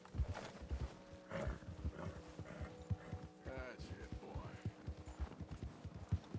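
A horse's hooves clip-clop steadily in Red Dead Redemption II, set in rough weather, a continuous rhythmic patter of steps under someone talking soothingly to the animal.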